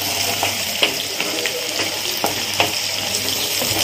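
Ginger-garlic masala paste being roasted in a pan for a mixed vegetable curry, a soft continuous sizzle with occasional stirring clicks and scrapes, close and without speech.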